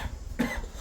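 A single short cough, close and fairly loud, rising out of a quiet room background.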